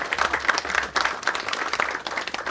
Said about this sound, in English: It's a genuine applause.